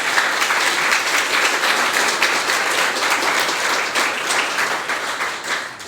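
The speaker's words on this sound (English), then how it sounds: "Please give another round of applause." Audience applause fills the hall at a literary award ceremony for the Bocas Prize, steady dense clapping from a large crowd lasting several seconds and fading slightly at the end.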